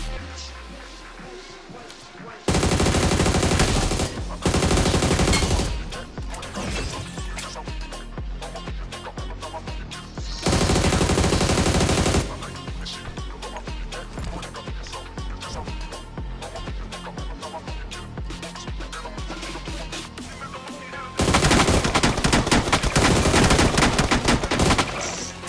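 Rapid bursts of gunfire during a firefight in the mobile battle royale game BGMI, loud and dense, with several intense volleys separated by stretches of steady in-game noise.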